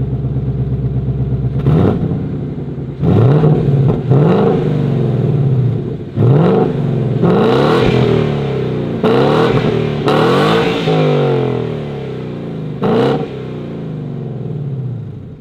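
A 2019-2020 Ford Mustang GT PP2 with its stock exhaust revs hard several times in a row, each loud, close burst rising and then falling back to a rumbling idle, with no talking.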